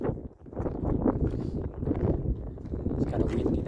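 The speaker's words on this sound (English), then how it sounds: "It's kind of windy now." Steady wind gusts on a Yosemite hiking trail buffet the microphone with a continuous low rumbling roar, moderately loud and unbroken throughout.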